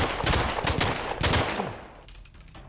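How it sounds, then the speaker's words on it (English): Rapid bursts of gunfire from a VR shooter game, Corridor VR (Ironforged) on Meta Quest 3, loud and close in quick repeated volleys before thinning out near the end. "it took 3 shots to kill that guy"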